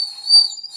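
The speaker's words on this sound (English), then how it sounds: "Let me put water in it, the bird whistle." Water-filled bird whistle blown in a short burst, giving a bright, steady high warble with a slight bubbling flutter, close and clear with nothing else heard.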